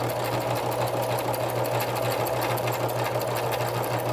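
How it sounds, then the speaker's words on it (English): A sewing machine chain stitches quilted Christmas cards piece after piece, running steadily and loudly with a fast, even mechanical hum and rapid needle clatter, close up and without a break. "I've been chain stitching, I guess is what you call it."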